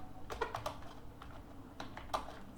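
Typing on a computer keyboard while entering a Python comment line, a few quick clusters of crisp key clicks in an irregular rhythm, close and fairly soft.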